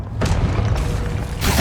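A Confringo explosion spell cast in Hogwarts Legacy on PS5, a sustained booming blast filling the whole moment, with a second burst swelling near the end.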